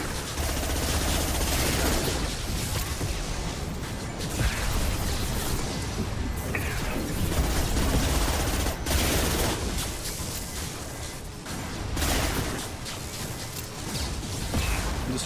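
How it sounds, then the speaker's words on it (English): Heavy weapon fire in the video game Mass Effect 2, a continuous dense barrage of blasts and crashing impacts that stays loud and chaotic with hardly a break. "Heavy weapon. It's hitting stuff."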